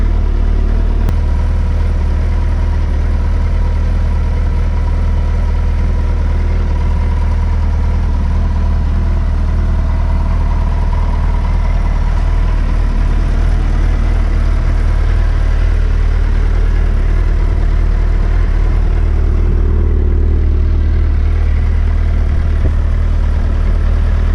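A stock 2020 Suzuki Hayabusa sport motorcycle idles steadily after a cold start, a continuous low engine hum with light mechanical clatter held at an even level throughout, close by and with no talking.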